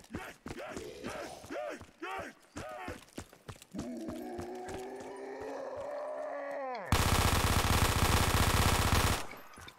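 A gun in a Call of Duty Zombies game fires a loud burst of rapid automatic shots near the end, a dense sustained rattle that cuts off abruptly, after groaning, moaning vocal sounds and scattered hits.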